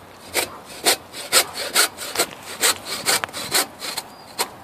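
A hand saw that cuts badly rasps through wood in steady back-and-forth strokes. There are about a dozen close, evenly paced strokes and no talk.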